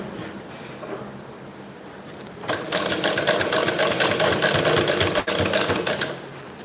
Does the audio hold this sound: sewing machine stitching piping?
yes